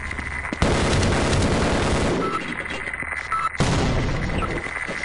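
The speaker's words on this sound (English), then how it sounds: "Oh, that's totally an auto gun." An automatic gun turret fires in the video game Half-Life, a dense continuous stream of rapid shots that stops briefly and then resumes at full loudness, with a little voice underneath.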